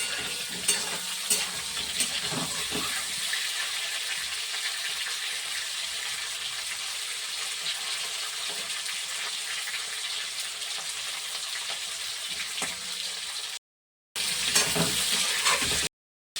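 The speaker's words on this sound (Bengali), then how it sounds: "ফুলকপিগুলো ভাজা হয়ে গেছে" Cauliflower florets fry in hot oil for a home-style cauliflower dalna, giving a continuous close, even crackling sizzle with a few stirring clatters and a brief cut near the end.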